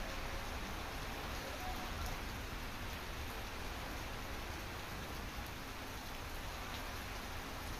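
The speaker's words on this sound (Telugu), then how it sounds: "భారీ వర్షం కురుస్తోంది" Heavy rain pours down in Kanchikacherla near Vijayawada as a dense, unbroken roar of drops lasting throughout, with no other clear sounds.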